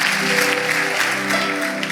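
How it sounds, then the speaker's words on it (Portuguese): A church congregation applauding, steady crowded clapping throughout with a faint sustained musical tone underneath and no speech. "Vamos aplaudir, tome o seu assento."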